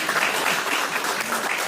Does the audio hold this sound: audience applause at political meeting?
yes